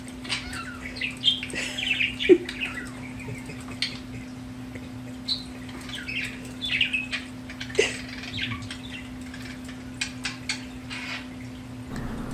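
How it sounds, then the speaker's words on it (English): A new pet budgie at play with another bird, giving scattered faint chirps, tweets and brief wing flaps against a steady low hum, fairly quiet and close, with no talking. "so I want to move on to something more cheery with a short video of our new budgie, Simon, playing with Oreo."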